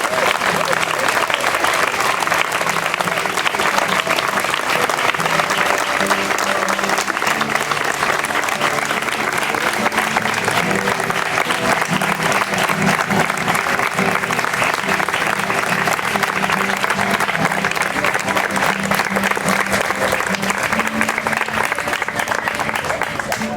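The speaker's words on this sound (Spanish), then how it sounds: "Denle un fuerte aplauso al Señor" A church congregation applauding loudly and continuously, a dense sustained wash of many hands clapping with cheers and voices woven through for the whole stretch.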